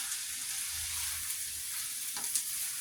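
Shrimp fried rice with soy sauce sizzles steadily while being stir-fried in a pan, a continuous close frying hiss with a few soft stirring scrapes and no talking.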